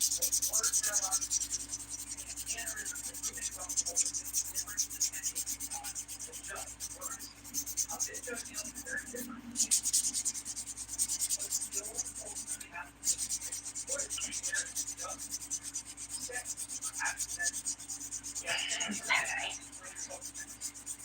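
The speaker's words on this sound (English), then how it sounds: "So I'm just smoothing all of the nails." Dip powder nails are buffed and filed in quick, continuous scratchy strokes, close and faint, with a few brief pauses.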